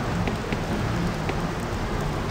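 Steady in-game rain from Dungeon Siege hisses evenly throughout, a dense, constant patter of drops with no voices and no breaks.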